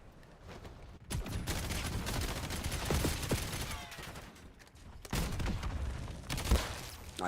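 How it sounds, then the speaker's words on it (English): Sustained gunfire from the video game Black Ops, a dense run of rapid shots and bursts filling most of the clip, with a short lull near the start and a louder burst toward the end. "I missed. That's why I was shooting him."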